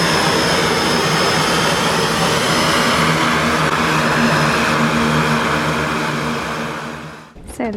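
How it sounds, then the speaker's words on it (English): A seaplane arriving in the Maldives gives a loud, close, continuous propeller-engine roar that holds steady and then fades toward the end, where a brief burst of wind or handling noise cuts in. "So the seaplane has arrived to take us home."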